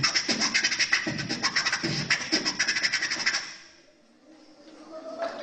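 A human voice imitates a DJ deck scratch with a rapid, rhythmic run of scratchy back-and-forth strokes, close and clear, before it cuts off into near silence.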